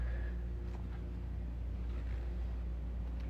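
A V8 engine of an Italian sports car idles in a showroom, giving a steady, low, continuous rumble with no revving.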